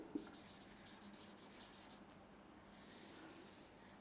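A pen or chalk writes words on a board during an English lesson, faint scratchy strokes in short bursts, then a longer smooth stroke, heard at a moderate distance with no talking.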